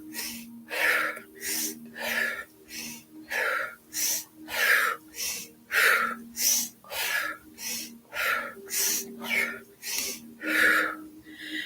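Slow, deep yoga breaths, each drawn in and let out in a steady, close rhythm with about twenty even cycles and soft airy texture, alone without talk.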